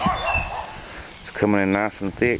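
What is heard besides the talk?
dog barking outdoors in garden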